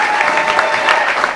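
A live audience claps together at an award event honoring baccalaureate laureates, a steady dense wash of applause that fills the whole moment at close range.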